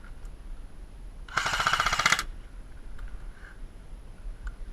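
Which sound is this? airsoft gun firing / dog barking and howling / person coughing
airsoft gun firing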